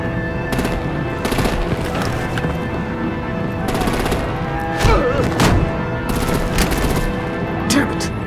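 Bursts of automatic gunfire with sharp shots and occasional booms from Batman: The Enemy Within, a video game, ring out repeatedly over a dense, steady background of game noise.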